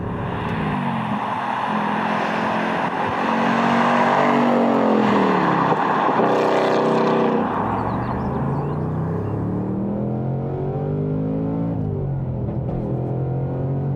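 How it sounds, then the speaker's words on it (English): Loud engine revs climbing repeatedly in pitch as a Ford Mustang Dark Horse accelerates hard through gears with no-lift upshifts, each shift seamless without a pause in power. "It no lift upshifts so perfectly."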